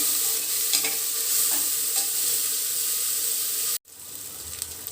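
Ginger, garlic and chili paste frying in a pan, a close, steady hiss of sizzling oil with a few soft stirring scrapes, briefly cut off near the end before resuming.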